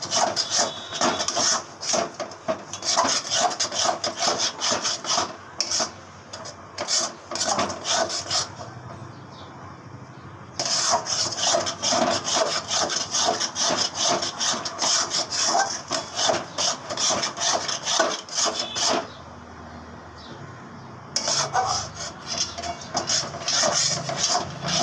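Sesame seeds stirred continuously in a pan while cooking, a steady dry scraping and rustling that runs in long bursts with brief pauses, close and fairly loud with no voices.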